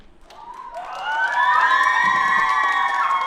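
A theatre audience at a competition concert cheers on request, rising into loud sustained shouts, whoops and high children's voices that swell and hold, with scattered clapping underneath.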